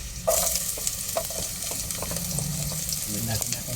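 Chicken pieces for Filipino chicken afritada fry and brown in a pan while being stirred, making a close, steady sizzle with repeated scraping and clacking strokes from the utensil against the pan.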